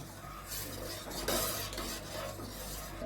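A spoon stirs milk into freshly cooked rice in a metal pot for rice kheer, giving soft, steady scraping and swishing strokes close by with a few brighter clinks of utensil against the pot.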